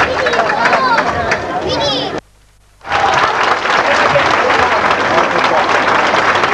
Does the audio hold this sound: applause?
yes